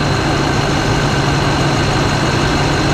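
A 2024 Honda Civic Si engine idles steadily after starting, a loud, close, continuous hum with a constant low drone and no variation in pace.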